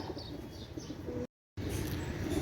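Soft, low cooing from Chinese Kamagar pigeons, steady and fairly close, with faint higher chirps; the sound breaks off completely for a moment midway, then resumes at the same level.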